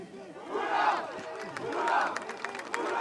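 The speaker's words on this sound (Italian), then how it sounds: "Ed ecco gli applausi ricambiati da parte dei Senza e da parte dei Mastini anche al folto pubblico sugli spalti del Mastini Stadium." Crowd noise at the Mastini Stadium after an ice hockey quarterfinal between Mastini Verona and Saints Padova, with a loud mix of cheering, shouting and scattered clapping from the stands.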